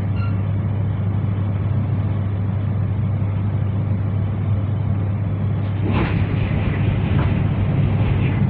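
A steady, loud rumbling roar of a passing Voyager passenger train on the West Coast Main Line, with a heavy low drone throughout and a brief rattle near the end.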